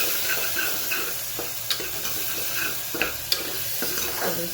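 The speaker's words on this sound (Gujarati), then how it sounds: "ધાણા જીરું, મીઠું એડ કરી વઘાર બની ના એટલે સેજ આપણે બટાકા પણ એડ કરી લઈએ." Potatoes stirred into a hot tempering of coriander, cumin and salt, with a steady sizzle and hiss from the pan and soft scraping stirs and clinks throughout.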